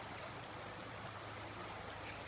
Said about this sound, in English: this river is absolutely huge